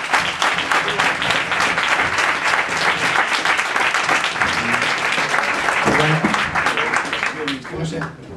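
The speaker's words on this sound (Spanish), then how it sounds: "Un aplauso para Andrés Carmona, por favor." Sustained applause from a pub audience at a skeptics' talk in Madrid, a dense, loud wash of clapping for the whole stretch, with a few voices faintly audible near the end.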